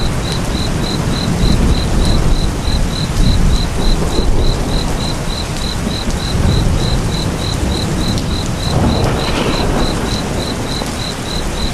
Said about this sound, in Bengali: অঝরে বৃষ্টি ঝরেই যাচ্ছে